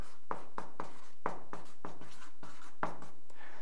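Marker or pen strokes writing on a board or paper, a series of short scratchy taps and squeaks in an irregular rhythm, close and fairly quiet with no talking.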